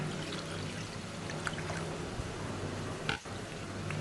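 Rinse water poured while washing fish in a kitchen, a steady soft wash of running, splashing water throughout, fairly quiet, with a brief louder splash near the end.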